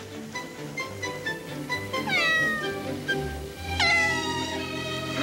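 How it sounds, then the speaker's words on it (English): A cat meows repeatedly, with several drawn-out, rising and falling cries close by over a low background score, including a sharper, louder yowl near the end. "Nice kitty. Here, kitty, kitty, kitty, kitty, kitty, kitty."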